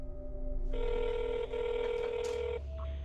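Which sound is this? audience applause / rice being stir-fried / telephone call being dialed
telephone call being dialed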